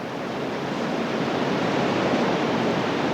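Rough, boiling river rapids on an Arctic canoe race course in Norway make a continuous, loud roar of rushing water with steady broadband hiss and no voices.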